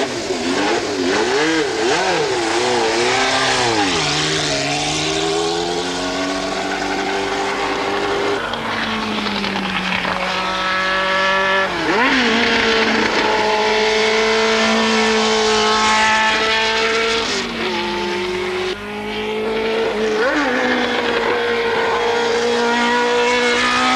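A Tyrrell 008 four-wheel Formula 1 race car howls loudly up close through a corner, its engine note rising and falling with repeated upshifts and throttle changes over a long, continuous run.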